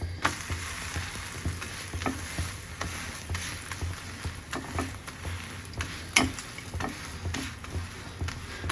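Frozen roti frying in a little oil in a pan, a steady close sizzle with scattered crackles and occasional sharper pops, no voices.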